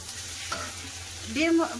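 Fish roe hits hot oil over fried onion and garlic in a wok, setting off a short burst of close sizzling that swells near the end of the moment, heard alone.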